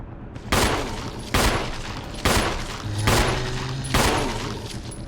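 Booming blasts go off in Resident Evil 1 HD, five loud, heavy hits at roughly steady intervals, each one trailing off briefly before the next.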